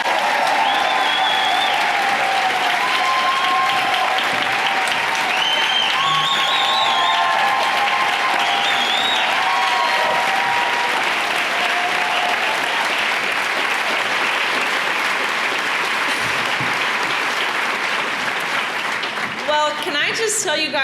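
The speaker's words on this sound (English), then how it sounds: "can I just tell you guys what a blessing it is to be applauded?" An audience welcoming a guest breaks into loud, sustained applause that fills the room for about twenty seconds, with scattered cheering voices mixed into the clapping.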